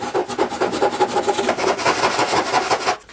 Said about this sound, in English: I'm going to saw out the bulk of this.